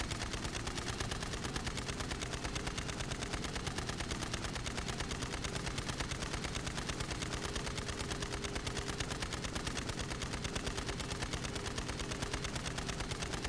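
Continuous automatic gunfire in the video game Borderlands 3, a dense, steady stream of rapid shots filling the whole stretch at constant loudness, with no talk over it.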